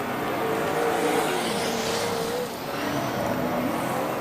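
A speedway race car with big wide wheels and a lot of power roars past on a dirt track, its engine a loud continuous drone that dips briefly midway before climbing again, with no talk over it.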